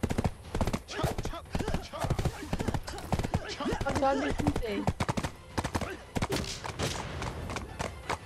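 Horse hooves clip-clop in Black Desert as riders move, the steady rhythmic thuds loud and continuous under people talking throughout.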